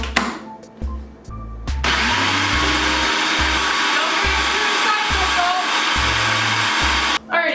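A food processor blends hummus made with roasted red pepper. After a few short clunks and bumps it starts up into a steady, loud motor whir that runs on evenly for several seconds before cutting off near the end.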